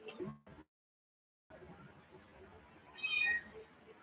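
A pet cat named Muse meows indoors, a short cry, a pause, then a louder, higher drawn-out meow, with a faint voice at the start.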